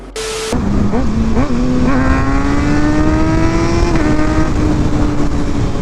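A 2023 Kawasaki ZX6R motorcycle engine revs up while riding, loud and close, with a few quick throttle blips then a sustained rising high-pitched pull under wind noise.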